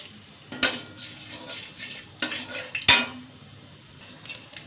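Nigella seeds hit a little hot oil in a pan, giving a soft, low sizzle with a few sharp metallic clinks and scrapes of stirring against the cookware, fairly quiet and close.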